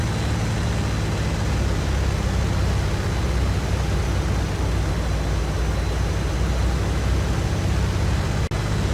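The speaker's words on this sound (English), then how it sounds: "Don't want to over rev my engine." A WWII fighter plane engine in the video game IL-2 gives a loud, steady broadband roar that drones without a break, with a brief dropout near the end and no speech.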